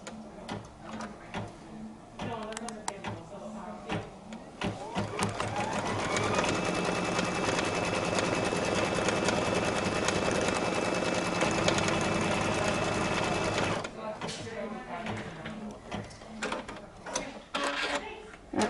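An embroidery sewing machine stitches a placement line for the final cake layer on a Kimberbell Blanks project, running steadily and loudly for about eight seconds between quieter handling noises.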